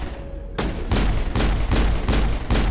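Rapid loud bursts of gunfire in the video game Mass Effect, a regular chain of heavy booming shots following one another closely, close and dominant.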